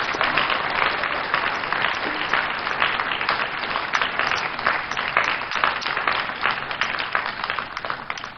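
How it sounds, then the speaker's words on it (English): An audience at an evening policy discussion on a West African development strategy gives a sustained round of applause, a dense wash of many hands clapping evenly throughout. "give a round of applause to Dr. Motilola Akinfamisoye Adejare"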